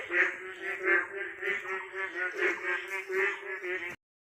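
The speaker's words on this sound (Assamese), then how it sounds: "শুনিছে চাগে খালি ভেকুলীৰ মাত" Frogs calling in village fields after night rain, a dense, steady chorus of throaty croaks pulsing in a quick repeating rhythm, fairly close and continuous until it cuts off abruptly.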